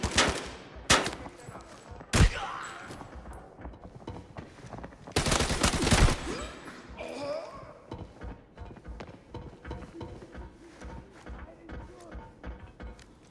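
New gun firing in the Arena Breakout video game: short bursts of loud automatic gunfire, including a sustained fusillade mid-clip, separated by shuffling movement, gear clicks and quieter gameplay sounds.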